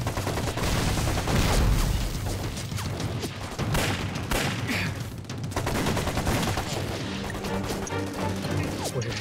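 Heavy battle gunfire in a Chinese war drama about the fight against the Japanese: a dense, loud fusillade of overlapping rifle and machine-gun shots with crashes and impacts, continuous throughout with no talk.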